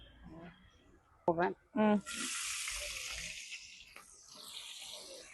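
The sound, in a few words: oil heating in a cooking pot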